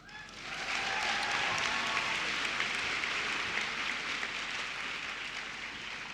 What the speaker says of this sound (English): I am truly honored that you clapped my evacuation speech